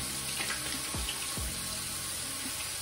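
Tap water runs steadily into a sink during handwashing, a faint continuous splashing with a few soft clunks and drips near the start.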